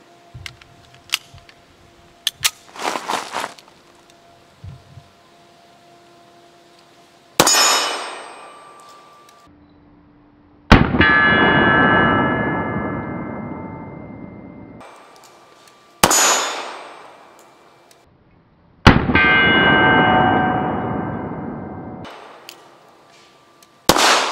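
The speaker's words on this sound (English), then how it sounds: "see if this fresh spring in here has make it any more pleasant for my hands to shoot." A Makarov pistol with a fresh recoil spring fired outdoors: a few sharp clicks and handling noises, then four loud close gunshots spaced several seconds apart, each followed by a long ringing echo that slowly fades.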